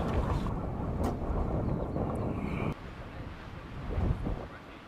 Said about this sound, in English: A little bit breezy up here.